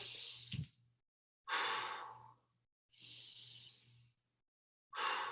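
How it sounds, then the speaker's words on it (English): Two big, deep breaths taken during a stretch: each slow inhale and exhale is clearly audible and close, separated by short silences, with no talk. "Give me 2 big breaths here."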